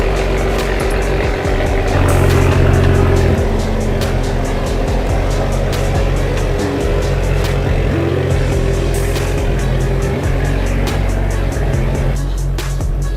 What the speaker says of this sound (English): wanted to pull the car out